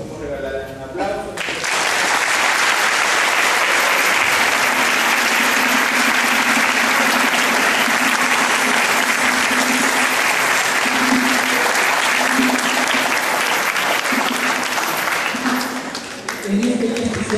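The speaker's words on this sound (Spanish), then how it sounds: "Vamos a regalarles un aplauso." A church congregation breaks into sustained applause during a Father's Day Mass at a parish in La Ligua, a loud, dense clapping that runs steadily for many seconds before tapering off, with voices faintly underneath.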